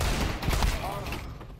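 A short, dense burst of rapid gunfire in Counter-Strike 2, loud and close, fading out toward the end with faint game noise underneath.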